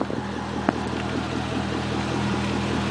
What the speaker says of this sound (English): Got a custom exhaust on it, as you heard.